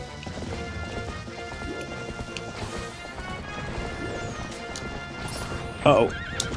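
A horse in Zelda: Twilight Princess HD clops along at a gallop, then lets out a loud, sharp neigh near the end, over a busy game soundscape with a rain-like hiss and music underneath.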